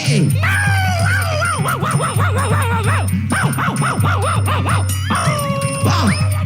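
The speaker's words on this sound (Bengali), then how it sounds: "এই মুরগিগুলো আনন্দে ঘেউ ঘেউ করে ডাকছে।" A comic sound effect of a dog barking rapidly, yipping and whining plays loud and up close, over a steady background tone. It accompanies a poultry farm scene where the sound is meant to come from chickens.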